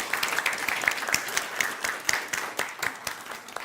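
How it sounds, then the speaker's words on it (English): An audience at an energy-week event applauds, with many people clapping together in a dense, lively burst that holds steady for the whole stretch. "Let's give a big applause."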